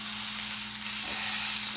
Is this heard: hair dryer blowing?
no